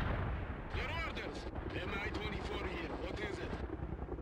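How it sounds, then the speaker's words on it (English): Artillery fire from the real-time strategy game World in Conflict rumbles as a dense, continuous barrage of booming impacts, loud throughout, with game voices talking over it. "We'll call an artillery there."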